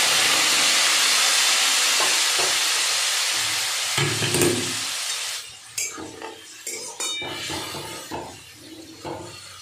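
Hot water poured into a pan of sizzling kachki fish and potato chorchori gives a loud, steady hissing rush of steam that gradually eases into scattered spits, bubbles and clinks of a stirring utensil.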